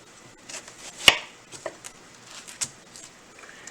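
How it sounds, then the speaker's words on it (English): A knife cuts an onion into quarter-inch slices on a board, a few irregular soft chops with one sharper knock, close and quiet. "Nice slice, even about a 1/4 inch on the onions"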